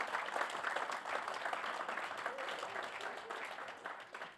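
Closing-session audience at an international real estate data forum applauds, a dense, even round of clapping from a large room, fairly distant and sustained throughout.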